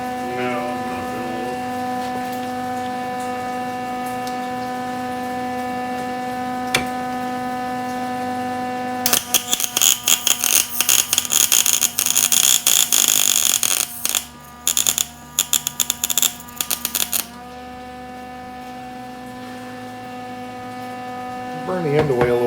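A welder set to a high voltage, working on a 1947 Ford hot rod during a cooling fan install, crackles in a loud, dense burst for about eight seconds, broken by brief pauses, over a steady electrical hum that runs throughout.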